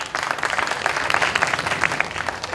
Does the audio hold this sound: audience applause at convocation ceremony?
yes